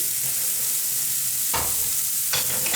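A chopped onion sizzles in hot oil in a pan with a loud, constant frying hiss, broken by two brief scraping stirs near the end.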